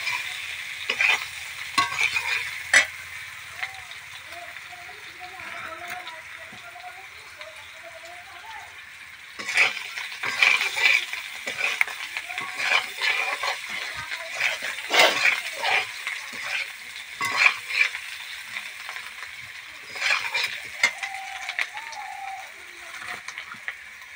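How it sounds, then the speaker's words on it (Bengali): Potatoes fry in a pan with a sizzling hiss and repeated clattering stirs of a spatula, the stirring coming in bursts separated by quieter stretches of frying, with someone speaking at times. "আলুটা এবার আমি আবার ভেজে নেব লাল লাল করে।"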